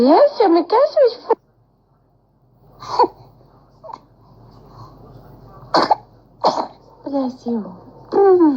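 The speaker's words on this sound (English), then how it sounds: "Ay, ay, ay, esos estornudos." A baby sneezes twice, short and sharp, with babbling and adult talk around the sneezes.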